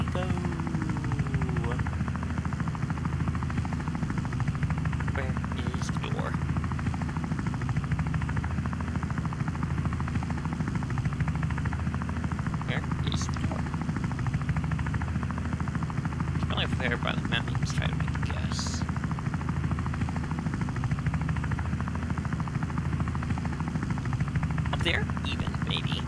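Steady rotor thrum of a helicopter flying in the cartoonish game Wobbly Life, a continuous pulsing drone throughout with occasional chirpy effects, while a player talks over it.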